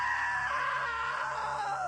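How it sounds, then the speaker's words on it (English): A drawn-out scream from a character in What Remains of Edith Finch, one loud sustained cry that wavers and slides downward over a low droning hum. "Now that was a great scream"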